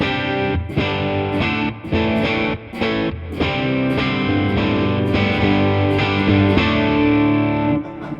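Clean electric guitar through a Fillmore 50 amplifier on its clean channel, chords strummed and ringing out with brief gaps between phrases, loud and close with no voices.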